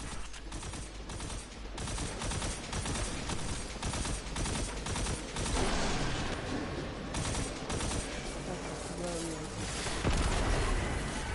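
Rapid, sustained gunfire from shooting at Hive enemies in the Destiny video game, dense bursts of automatic fire layered with heavier blasts, loud and nearly continuous throughout.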